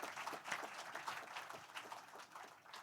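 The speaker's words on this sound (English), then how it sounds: "give them a round of applause." A short burst of clapping from a forum audience, dense and steady throughout, with no voices over it.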